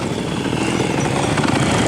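A motorcycle engine running steadily just after being started with the choke raised, a loud, dense idle close by with no pauses.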